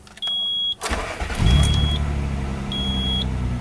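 A 1995 Nissan Maxima engine cranks over and catches after a few electronic beeps, then settles into a steady, fairly loud idle that runs on to the end, close by.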